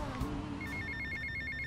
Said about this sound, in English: Oh, wait, we got a phone call.